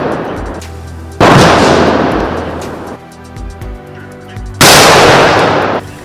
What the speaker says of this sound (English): and the 21 gun salute.